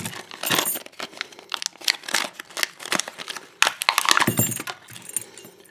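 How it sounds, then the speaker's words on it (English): Scissors snip and tear into the plastic packaging of an ABUS padlock, making irregular crisp cuts mixed with crinkling and rattling, close and busy, with no talking. "I have my pair of scissors here to get into this package"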